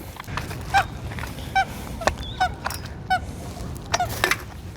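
Water birds at Edgbaston Reservoir give a string of short honks, about ten separate calls spaced irregularly, moderately close over a low outdoor background rumble.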